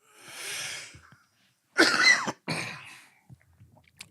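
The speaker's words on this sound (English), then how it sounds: "I'm going to cough." A person coughs a few times in quick, harsh bursts close by, followed by some quiet breathing and throat sounds.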